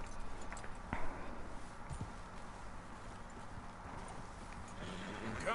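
Horse hooves clip-clopping at a steady walking rhythm in the Red Dead Redemption 2 video game, moderately loud against a soft ambient background.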